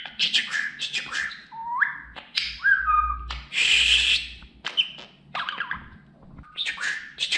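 A pet budgerigar whistles and chatters up close, with bursts of warbling notes, rising slides and short chirps separated by brief pauses.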